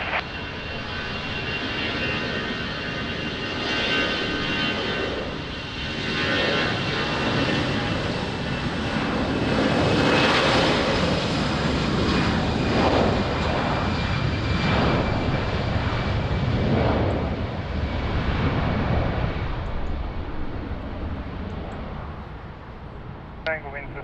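Aircraft landing on runway 20 at Lisbon Airport, a continuous loud engine roar that swells toward the middle and slowly fades, with radio voices heard over it.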